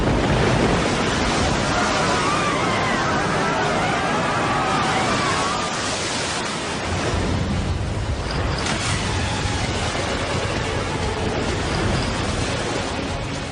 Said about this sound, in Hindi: सुनामी की विकराल लहरों से लड़ने के लिए विशाल बन गया है हमारा शक्तिमान